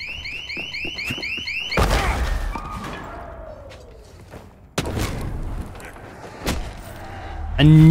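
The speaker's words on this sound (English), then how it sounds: "I knew that was going to set off an alarm." An alarm goes off in the zombie video game Dead Island 2, a loud repeating electronic wail at first, then cut off by heavy thuds, bangs and scuffling game noise.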